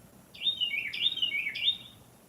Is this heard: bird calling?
yes